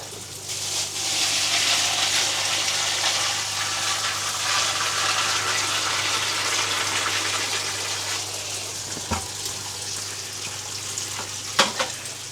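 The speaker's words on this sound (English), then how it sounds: "as we tip some more water in, that will increase" Water is tipped into the reservoir of a hydroponic NFT system, making a continuous gushing pour under a low pump hum that runs for about twelve seconds, with a couple of sharp knocks near the end.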